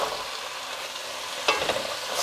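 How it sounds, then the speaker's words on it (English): Cumin, peppercorns and chunks of squash sauté in a pot for a three sisters stew, a steady loud sizzle with a brief stirring clatter partway through, no voices. "I'm gonna let this saute"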